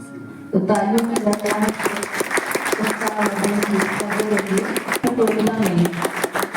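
Applause from a student audience at a B.Ed college award ceremony after a weekly community workshop, dense clapping that starts abruptly and carries on steadily, with a voice speaking over it.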